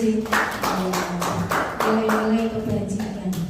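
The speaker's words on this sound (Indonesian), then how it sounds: "Tepuk tangan untuk Bu Susi." Clapping from people in a classroom, rhythmic, close and fairly loud, with distinct claps in a steady beat over a few seconds, mixed with voices.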